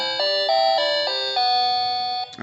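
Short electronic chime from an AA battery-powered wireless doorbell, a few bright bell-like notes in sequence, clear and close, ending abruptly with a small click.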